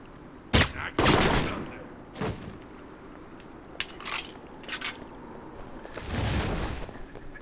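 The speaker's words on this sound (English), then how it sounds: "all assault rifles are burst" Short bursts of assault rifle fire ring out in a game mission in Rome, several sharp separate volleys spaced a second or two apart over a quiet background.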